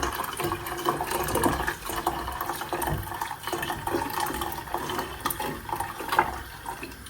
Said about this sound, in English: So then I add hot water